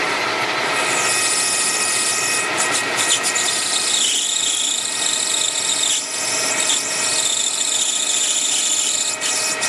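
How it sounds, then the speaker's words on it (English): A metal lathe machines a part along its length, giving a steady, loud, close mechanical whine and hum that runs without break. "I'm going to machine the part all the way along."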